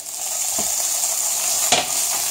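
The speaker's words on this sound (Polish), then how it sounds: "i na mocnym ogniu go chwilkę podsmażymy" Diced bacon sizzles steadily in a preheated pan over high heat, a close, continuous hiss with a few faint stirring scrapes.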